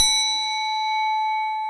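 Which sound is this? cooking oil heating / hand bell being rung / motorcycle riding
hand bell being rung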